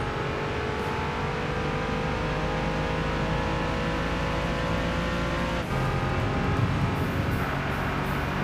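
Race car engine in Gran Turismo 6 on PS3 drones steadily at high revs during a five-minute race, with a brief shift or dip midway before climbing again.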